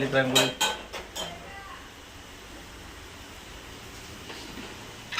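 Pots, pans and utensils clatter in a home kitchen during morning cooking of fasting khichdi, with a burst of clinks and knocks at the start before settling to a quiet background hum.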